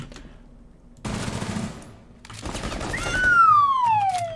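An SMG-11 submachine gun in the shooter game Rainbow Six Siege fires in short, very rapid bursts, loud and close, separated by brief pauses, with a falling electronic whine over the last burst.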